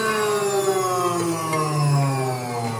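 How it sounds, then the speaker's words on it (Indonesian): A feed grinder driven by a washing machine motor, running with a loud, steady electric whine and hum that shifts slightly in pitch as it works. "Oh, benar-benar mesin cuci ini."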